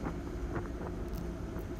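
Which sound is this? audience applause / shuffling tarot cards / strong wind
strong wind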